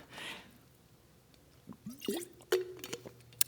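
Water being drunk from a glass: a few soft sips and wet gulps, with small liquid drips and swallows, close and quiet with no talk.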